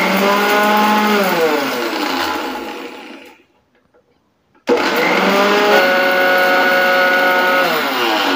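A mixer grinder whirs loudly while grinding dried haritaki into powder, its motor winding down to a brief silence before abruptly roaring back up to full speed, close and continuous.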